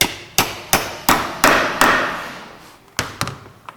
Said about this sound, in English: We'll start that and just hammer it home.